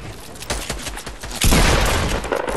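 Gunfire in the Fortnite battle royale game, a quick burst of several sharp shots followed by a louder, denser volley, close and punchy with no talking over it.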